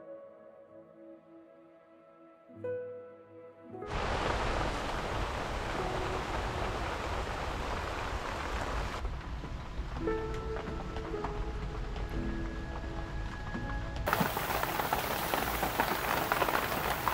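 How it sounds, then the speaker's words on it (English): Steady rain drums on a wildlife photography hide roof overhead, a dense, even patter that grows louder and fuller partway through and continues without pause. "I hope the microphone's picking up the rain on the top."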